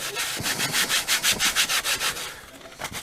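Rhythmic back-and-forth sanding of a worn Poulan Pro snowblower friction disk drive plate, a steady series of close, loud rasping strokes that slow and fade near the end.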